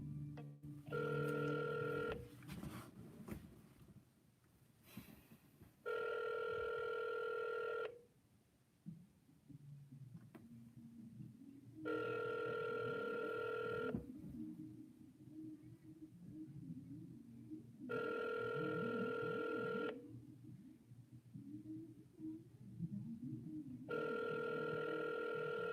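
An outgoing cold call ringing on a telephone line: five evenly spaced, loud ringback tone bursts, each about two seconds long, separated by quieter gaps with low background noise, and no talking.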